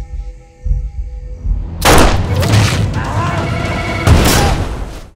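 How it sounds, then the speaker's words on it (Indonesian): A grenade explodes in an action film: a sudden loud boom breaks a quiet, tonal stretch, and rumbling debris follows. A second heavy blast comes a couple of seconds later, then the noise fades abruptly. "si pembunuh bayaran pun langsung menyiapkan granat untuk dilemparkan ke arahnya"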